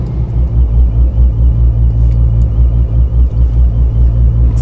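A cammed 426 Hemi car engine pulls under light throttle while driving, a loud, steady low rumble with a lumpy pulsing idle-cam beat running throughout without pause.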